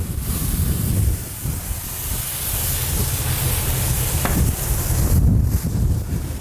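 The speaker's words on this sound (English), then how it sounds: "And we're hot, you can hear the sizzling." St. Louis-style trimmed ribs sizzle on the hot lower rack of a Gator Pit grill, giving a steady, close, broadband hiss that runs throughout with small pops and crackles.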